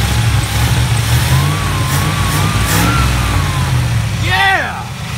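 A 1984 Dodge Ram's engine, just repaired with a new carburetor needle and seat, roars loudly and steadily up close under throttle, with a whining tone drifting over it and a brief voice exclamation near the end.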